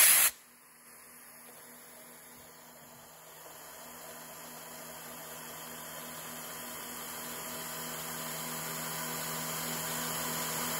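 A steady hissing spray of mist coolant runs over a low machine hum, the hiss growing slightly louder as a Bridgeport knee mill keeps cutting with a quarter-inch solid carbide OSG end mill.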